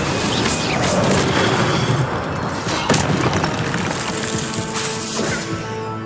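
Repeated fiery spell bursts go off in the Hogwarts Legacy video game, loud crackling whooshes and booms layered over busy combat noise, with several sharp hits spaced a second or two apart.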